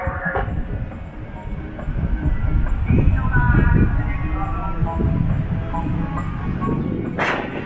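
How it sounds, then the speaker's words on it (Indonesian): An electric commuter train rumbles and clatters as it pulls away from Manggarai station in Jakarta, with wheel noise building then holding steady, and station announcements and voices in the background. "berikut jalan KRL berangkat Cawang"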